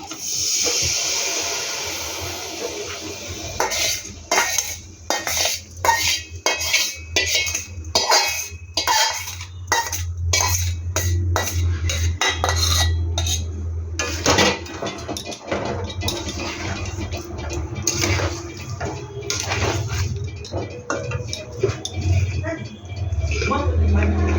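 Olives tipped into thickened jaggery syrup in a pan for olive pickle, with repeated clinks of a spoon against the pan and sizzling stirring noises running throughout under background music.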